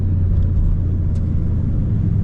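Ford Mustang launching at a drag strip on a hot day, a loud, close, steady engine rumble that holds at the same level throughout with no voices.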